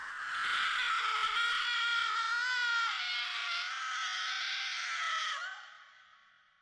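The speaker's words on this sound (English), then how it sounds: "She lets out a gut-wrenching scream." A long, high, wavering female scream from the horror video game Tsugunohi, loud and anguished, holding for about five seconds before trailing off into a fading wail.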